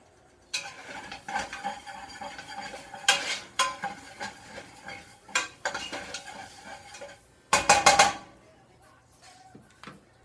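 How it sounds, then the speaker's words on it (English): A spoon stirs Maldivian tuna curry in a pot nearby, giving irregular scraping and clinking strokes in quick bursts, with a dense clatter of stirring near the end and no talk. "And stir this again."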